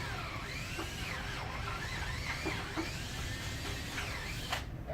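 A DeWalt cordless drill boring holes in a wooden clog in an Amsterdam workshop, giving a steady, fairly quiet whirring drone with slight pitch wavers as the bit cuts through the wood.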